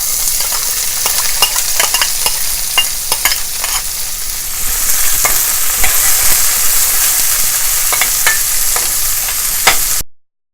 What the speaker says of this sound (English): Cumin seeds turned brown quickly, so now I will add onions.